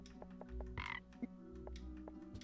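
A cartoonish frog croaks in a kiss moment of the video game Storyteller, a loud close-up croak with bright tonal chirps over a busy bed of game music and effects, no talking.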